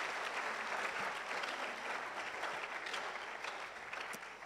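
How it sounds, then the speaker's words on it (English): Sustained audience applause fills a hall honouring committee members at a university research week event, steady dense clapping throughout with no pauses. "Can we clap for these committee members?"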